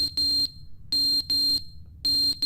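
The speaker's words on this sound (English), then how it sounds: "Oh, smoke alarm. That's just the battery." A smoke alarm in The Stanley Parable sounds a low-battery warning, giving loud, piercing electronic beeps in paired bursts with short gaps between them, repeating steadily and close by.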